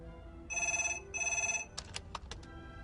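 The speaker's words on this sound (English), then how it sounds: "Donald and Veronica can't come to the phone right" A telephone rings two clear electronic rings in a home, loud and near, followed by a few sharp clicks and knocks with no talk.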